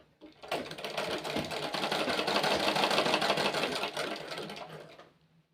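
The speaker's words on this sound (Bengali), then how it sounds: "সেলাইটা করে নেবে" A sewing machine stitches a folded side seam of fabric for men's underwear, running steadily and loud for about five seconds with a fast rattling whir that starts and stops cleanly.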